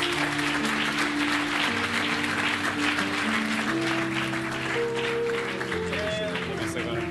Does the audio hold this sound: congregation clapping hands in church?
yes